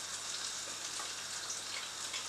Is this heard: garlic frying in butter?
yes